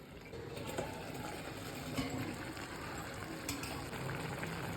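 Bottle gourd pieces with rock salt, turmeric and a tumbler of water simmer in a covered pot, giving a steady, soft bubbling hiss throughout with faint clinks, no voices.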